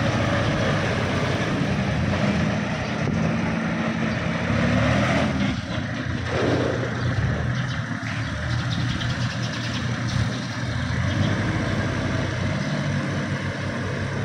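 A Kubota 34 farm tractor engine runs at a steady idle, a loud continuous diesel chug close by with no break for the whole stretch.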